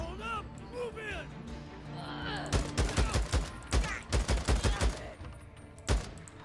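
Gunfire in the zombie survival game Days Gone: a burst of rapid shots and sharp cracks builds in the second half, loud and close, with a voice talking at the start and a final lone shot.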